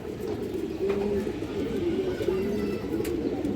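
A silver pigeon coos close by, with low, soft, repeated warbling calls over a steady background hum and a few faint clicks.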